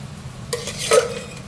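Spoon stirring jaggery, cumin and coriander into a spoonful of hot oil for a spicy bitter gourd and onion dish, a soft sizzle with a few scraping strokes and faint clinks against the pan, brief and close.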